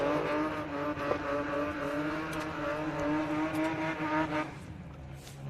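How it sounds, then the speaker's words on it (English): A drift car in the Pro 2 class at Driftland, British Drift Championships, holds a loud, steady high-revving engine drone with tyre noise throughout, easing slightly near the end as it rolls back toward the pit. "Phil just there burning off his tyres as he heads back into the pit"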